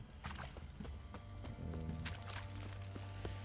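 Horse hooves clip-clop faintly in The Witcher 3 video game in quick, regular steps, with a low rumbling backdrop underneath and a few brighter knocks.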